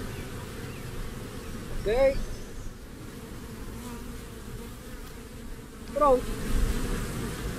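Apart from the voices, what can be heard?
swarm of bees being moved into a hive box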